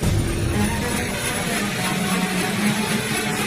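Military helicopter during heliborne training for Scout Ranger recruits, a loud continuous rotor and engine roar with steady low thumping that holds throughout, close and dominant with no talk.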